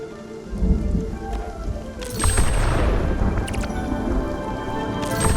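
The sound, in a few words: lightning storm with rain and thunder in the video game Spiritfarer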